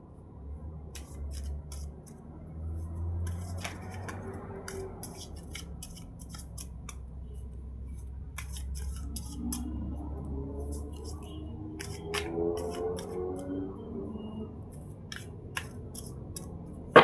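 A deck of cards is shuffled close up in quick bursts of crisp riffling snaps and soft sliding, repeated several times over a low background hum.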